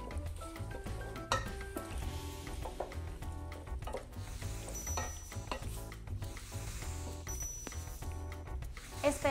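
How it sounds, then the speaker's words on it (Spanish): Chopped cilantro and parsley frying in oil in a pan for a Colombian seafood casserole, giving a steady close sizzle with occasional stirring scrapes and utensil clinks. "Esperemos un poco que se empiecen a sofreír"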